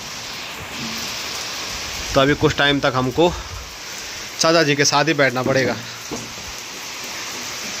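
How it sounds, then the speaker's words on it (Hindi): Heavy rain pours down steadily around a village in the Pahadi hills, a dense continuous hiss filling the background while someone talks over it in two bursts. "काफ़ी ज़्यादा तेज़ बारिश आ रही है,"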